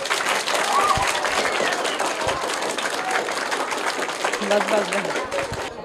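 Steady crowd clapping in applause for a third-place winner at a school competition, continuous and moderately loud, with a few brief vocal sounds mixed in.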